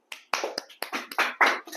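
A small group claps in a temple class, a short ragged run of separate hand claps, close and fairly crisp, with no talking.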